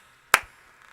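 A single sharp hand clap, loud enough to overload and clip the recording, rings out in a quiet room and decays quickly into near silence.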